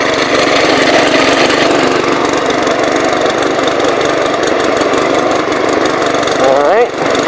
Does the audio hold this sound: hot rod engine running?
yes